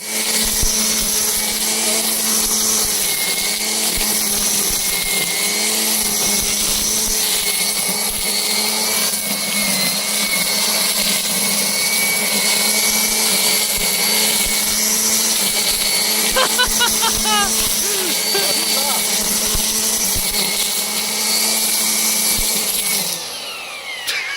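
An AL-KO BC 1200 E electric string trimmer gives a loud, steady motorized whine droning continuously for about twenty-four seconds, close and harsh, with people talking underneath before it cuts off at the end.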